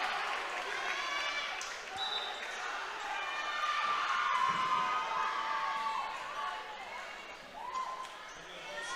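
Loud crowd cheering and shouting from the Deacon side fills a girls varsity volleyball match in a gym, sustained with rising swells and whistle-like shrieks, with a ball bounce and voices mixed in.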